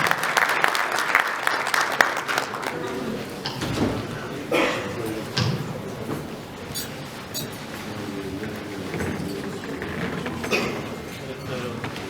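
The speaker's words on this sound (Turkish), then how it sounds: "Sayın Ebu Bekir Gizligilleri güçlü alkışlarımıza kürsüye davet ediyorum." Applause from an audience at an official ceremony, a steady dense clatter of clapping that continues throughout as a deputy minister is invited to the podium, with voices faintly mixed in.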